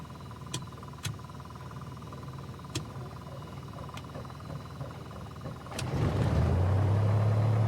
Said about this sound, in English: Alright, engine started right up.